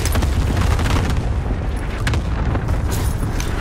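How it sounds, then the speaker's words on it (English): Continuous booming explosions from bombing in a battle royale style video game, a dense, loud rumbling barrage that fills the whole stretch with crackling blasts layered over one another. "No, you're running into the bombing."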